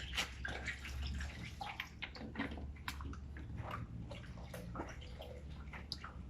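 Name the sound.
warm water being poured for mixing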